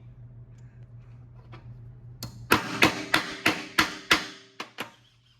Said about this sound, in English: Punching out the bolt holes for the gasket on the water pump here.